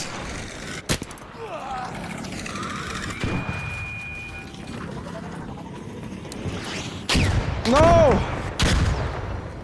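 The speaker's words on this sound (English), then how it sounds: "why is everybody shooting?" Guns fire in ARC Raiders gameplay, with sharp shots and bursts of fusillade over a noisy battle background, one loud burst near the end, while a player shouts briefly.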